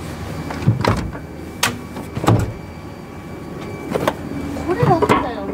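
Power sliding door of a new Honda Step WGN Spada seven-seater opening slowly, with a low motorized hum and several mechanical clunks and latch knocks, fairly close, while people talk over it.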